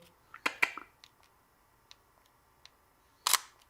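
A Sony A6000 camera shutter fires in two quick sharp clicks close up, then a few faint ticks, and later one more crisp shutter release, with no voices.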